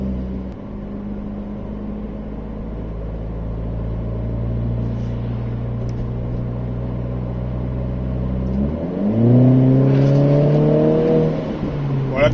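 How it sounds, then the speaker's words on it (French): A Renault Clio 4 RS engine idles with a steady low hum, then a short rev sends the pitch climbing up and briefly back down, loud and close, heard from inside the car. "Voilà, petite accélération."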